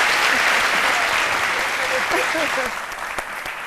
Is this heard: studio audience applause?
yes